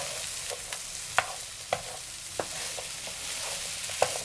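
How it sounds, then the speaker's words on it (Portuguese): Okra sizzling in a pan as it fries, a steady hiss broken by scattered soft scrapes and taps of a spoon stirring, close and without talk. "Ele já vai fritando"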